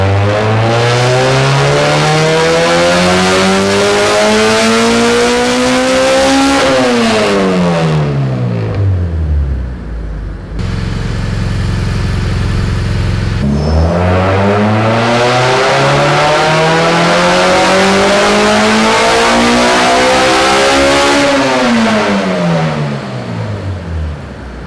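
A K24-swapped BMW E30 M3 four-cylinder revs hard on a dyno, climbing steadily to a loud high-rpm scream, dropping off, idling briefly, then sweeping up again in a second full pull.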